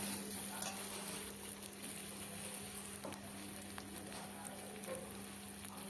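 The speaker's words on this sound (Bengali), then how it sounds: "বেশ পেঁয়াজটা কিন্তু আমার এখানে ভাজা হয়ে গেছে।" Sliced onion fries hard in a hot pan for a bottle-gourd greens and shrimp mash, giving a dense, even sizzle with fine crackles that holds steady throughout, close and alone with no voices.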